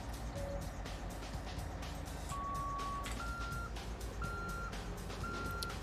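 A bus in SimCity 4 backs up with a series of sharp, regular reversing beeps over a low engine rumble, heard at moderate distance with no talk.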